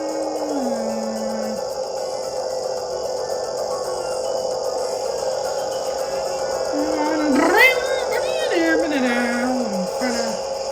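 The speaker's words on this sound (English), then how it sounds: "It sounds like a bee buzzing when I hear the Cat X's engine." A steady, high, bee-like buzzing kart engine drone from Mario Kart 7, with a few gliding electronic tones sweeping up and down near the end.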